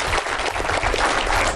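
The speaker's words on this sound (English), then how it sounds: "Give yourselves a round of applause, folks." Dense, steady applause from a townhall audience at a climate change event in Homa Bay County, a continuous crowd clapping texture with no voices.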